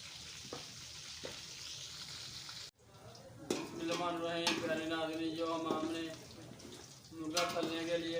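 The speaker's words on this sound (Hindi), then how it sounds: "ये घी में डाला वो हमारा बिल्कुल फ्राई हो चुका है" Chicken frying in hot ghee, a soft sizzle that breaks off abruptly, then a louder, busier frying hiss with stirring clatter, under a voice talking throughout.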